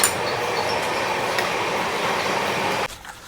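Amarkantak Express rolling into Itarsi Junction on Indian Railways, a steady loud rumble of wheels and carriages heard from on board, dropping abruptly quieter near the end, with no voices.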